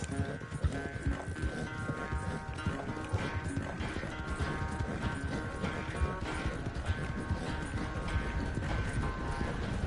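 Horse hooves galloping in Red Dead Redemption 2, a fast continuous clip-clop of the game's horse under a busy layer of music and effects, loud and close.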